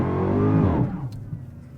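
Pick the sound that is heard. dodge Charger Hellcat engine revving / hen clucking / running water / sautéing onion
dodge Charger Hellcat engine revving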